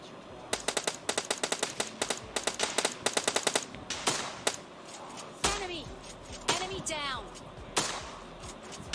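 Rapid automatic gunfire in the mobile shooter game PUBG Mobile Lite, with dense bursts of sharp shots early on giving way to scattered single shots and short volleys, while someone talks over the action.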